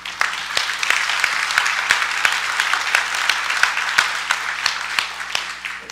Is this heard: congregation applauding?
yes